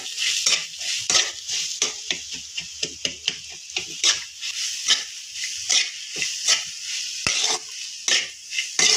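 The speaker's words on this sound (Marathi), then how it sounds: "आता आपल्याला हे चांगलं परतून घ्यायचंय केळी टाकल्यानंतर पण" Bananas are sautéed in ghee for a sheera offering, with a steady scrape-and-stir rhythm against the pan over a soft sizzle. Clinks and scrapes come close and fairly loud, with no voices.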